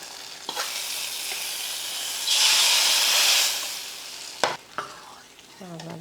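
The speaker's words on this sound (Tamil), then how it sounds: "இப்போ எடுத்து பருப்பில் ஊற்றிக்கலாம்." Fried onion tempering poured into cooked lentils, a sudden loud sizzle and hiss that bursts up for about a second and then dies down, with a few clinks of a utensil.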